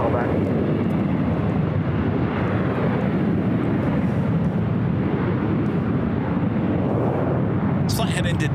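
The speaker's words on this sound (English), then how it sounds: "Flight heading to Denver, Delta Airlines Flight 2004. It's an A319" A Delta Airlines Airbus A319 takes off from runway 24 left at Los Angeles International Airport, its loud, continuous jet engine roar filling the scene steadily from start to finish.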